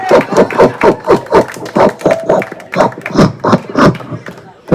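A human voice imitating coconut being grated by hand, producing a rapid rhythmic series of rasping scrapes, loud and close, with a lively gathering audible around it.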